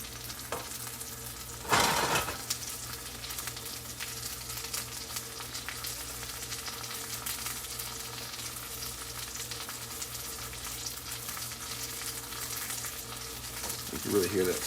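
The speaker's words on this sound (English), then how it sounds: "You can really hear that sizzle." Steady, quiet sizzle of chicken frying in butter in a pan, with a couple of brief clatters of a utensil near the start and end.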